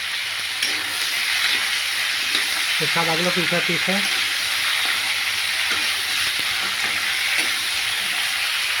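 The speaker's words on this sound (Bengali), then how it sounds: "পটলটা আলুটা ভাজছি ভালো করে" Pointed gourd and potatoes fry in a pan with a constant close sizzle and an occasional stir, while someone talks briefly over the hiss near the middle.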